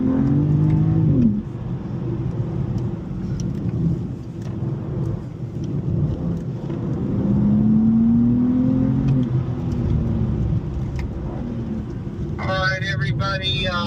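A BMW car on a fast race-track lap drones loudly and steadily, with rising and falling engine tones as it shifts and accelerates, and a voice comes in near the end.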